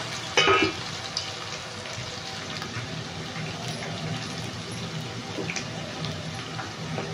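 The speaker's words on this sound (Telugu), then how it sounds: "ఇప్పుడు మనము ఆయిల్ కూడా హీట్ ఎక్కింది 2 సార్లుగా వేసి ఫ్రై చేసుకుందాం" Food fries in heated oil, a steady crackling sizzle with a sharp burst of spatter at the start, settling into continuous bubbling hiss.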